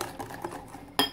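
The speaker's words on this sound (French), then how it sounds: "il faut continuer de fouetter." A whisk scrapes and clinks against a saucepan while custard mixture of egg yolks is stirred for a Basque cake, soft rhythmic taps ending in one sharper metallic knock.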